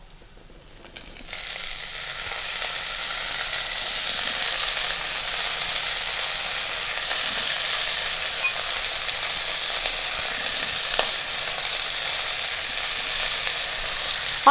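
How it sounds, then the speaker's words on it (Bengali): Chopped mustard greens hit oil already tempered with spices, bursting into a loud, steady sizzle after a quiet first second and holding an even hiss with occasional crackles. "ফোড়ন ভাজা হয়ে গেছে, দিয়ে দিচ্ছি কুচনো শাকটা।"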